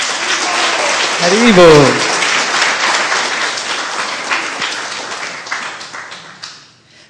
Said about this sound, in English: so if you can give a big applause to them